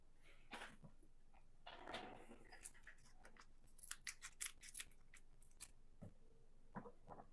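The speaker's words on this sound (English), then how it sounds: "I might need some scissors." Scissors snip open packaging for computer parts, a quiet run of sharp, crisp cuts and rustles in an otherwise still room.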